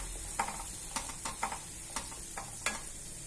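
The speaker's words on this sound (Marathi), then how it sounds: "ह्याच्यात घातल्याबरोबरच मस्त थमंग असा वास सुटतो ह्याला, कारण याच्यामध्ये आपण आलं लसूण हे सगळं, त्यामुळे ह्या फोडणीलाच खूप मस्त वास सुटतो" Garlic and ginger tempering for Kolhapuri misal sizzling in a pan, with a steady frying hiss broken by sharp, irregular crackles and pops, close and fairly loud with no voices.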